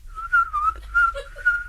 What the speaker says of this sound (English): What is that? That's me whistling.